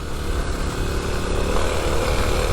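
Kawasaki KLX300 dual-sport motorcycle engine held at low-to-mid revs, a steady close buzzing drone with a slight surging rise and fall in the throttle, no talking.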